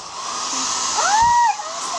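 Hodekt hair dryer blowing steadily on its fan setting and then switching to heat 1, a continuous close airy roar with a brief tonal whine as the setting changes, and no talk over it.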